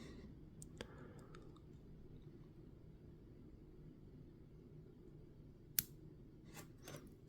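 Scissors trimming green putty on a Darth Vader miniature, faint sharp snips scattered over a quiet room hiss, with one crisp close cut standing out near the end.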